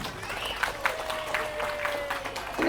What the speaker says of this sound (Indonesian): yuk tepuk tangan untuk TPA Nurul Alamin ini